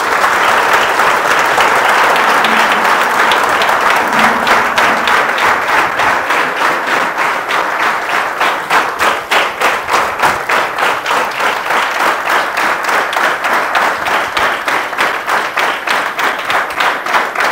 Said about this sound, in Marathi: एकदा सरांसाठी कंटिन्यू जोरदार टाळ्या झाल्या पाहिजे